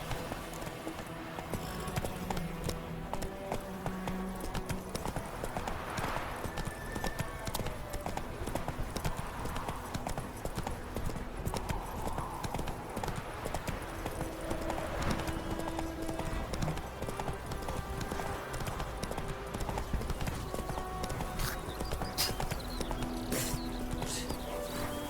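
A horse gallops in The Witcher 3, steady rhythmic hoofbeats pounding close and continuous under game sounds, with occasional voices.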